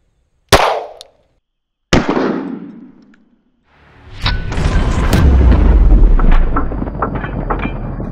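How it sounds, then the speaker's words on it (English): 9mm pistol shots fired at a bullet-resistant backpack on a range: two sharp, loud cracks with ringing decay, followed by a sustained rumbling, clattering burst of noise. "Up next is going to be the 9mm versus the bullet resistant backpack."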